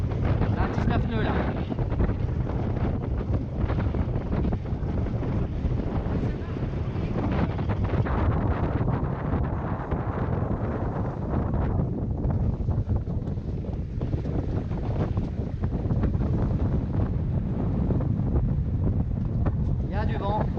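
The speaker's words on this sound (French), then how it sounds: "Il y a du vent." Strong, steady wind of about 19 to 24 knots roars across the microphone on a moving sailboat, with a constant low rumble of water and hull throughout.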